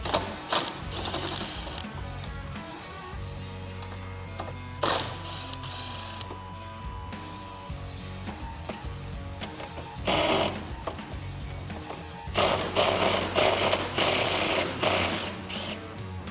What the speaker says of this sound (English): I'm going to take a 10mm socket and start to remove these bolts.